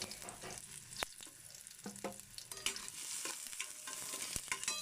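Onion and garlic sautéing in a little oil, a crackling sizzle with sharp spatula scrapes and clacks against the pan at irregular intervals, close and alone.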